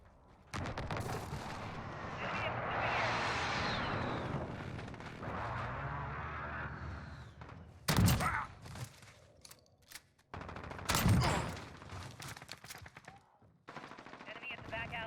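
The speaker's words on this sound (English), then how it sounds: "friendly precision airstrike inbound" Precision airstrike in the shooter game Modern Warfare, with a run of heavy booming blasts and rattling gunfire that rise loud and dense, then sharp bursts around the middle and later, all close and overlapping.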